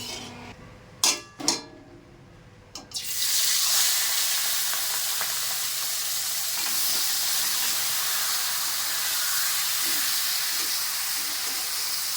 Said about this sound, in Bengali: চিংড়ি মাছটা ভাজা হতে থাকুক